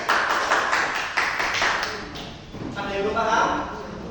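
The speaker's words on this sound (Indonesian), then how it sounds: "tepuk tangan" A classroom group claps in a short burst of rhythmic beats that fades after a couple of seconds, and talk follows.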